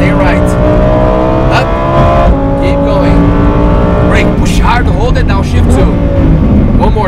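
A Lamborghini Huracan Performante engine pulls hard at full power, a loud sustained drone climbing in pitch between shifts, while a voice gives driving instructions over it.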